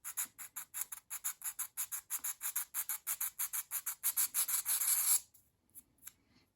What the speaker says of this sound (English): So just begin sanding very gently.